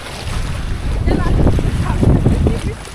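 Large sea waves roll and wash onto the shore during a rod-fishing outing, a loud surging rush mixed with gusty wind buffeting the microphone.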